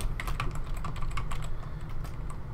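Rapid, uneven keystrokes clatter on a computer keyboard for a few seconds, close and fairly quiet, with no voices over them.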